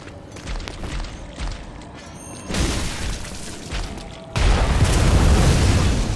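Explosions from a large gun in the Bloodborne video game, Hunter's Nightmare area, come as a series of deep booms that build in loudness, with the final blast the loudest and sustaining its rumble, no talk.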